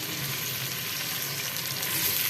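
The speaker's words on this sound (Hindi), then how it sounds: "ऑयल है ये गर्म हो गई है तो अब हम इसमें अनियन ऐड कर देते हैं।" Onions frying in hot cooking oil in a kadai, giving a loud, dense, continuous sizzle close up that keeps a steady level throughout and has no speech over it.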